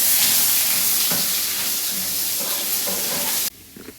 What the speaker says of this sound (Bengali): বন্ধুরা এবার কালো জিরাটা দিয়ে দিলাম, তেজপাতাটা দিয়ে দিলাম, দেখো লাল লাল করে ভেজে নেব।